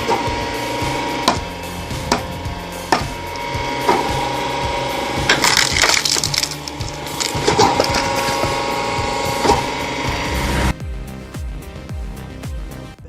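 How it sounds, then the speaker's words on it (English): Bell's Super Log Splitter, a 76-ton hydraulic machine, splitting hardwood logs with repeated sharp cracks, creaks and splintering thuds over a mechanical hum, close and loud, ending in a dry knocking tail. "Bell's Super Log Splitter is a true powerhouse, smashing through wood with 76 tons of force."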